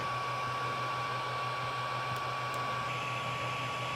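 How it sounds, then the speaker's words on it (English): A 3D printer's cooling fan runs loudly and steadily, a constant whirring hiss with a faint high whine, close by and unchanging throughout, with no talking. "This printer is very loud, so if you hear a little fan,"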